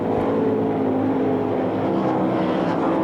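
World of Outlaws sprint cars race on the Knoxville Raceway dirt track, a loud, continuous engine roar with steady droning pitch that fills the scene without pause.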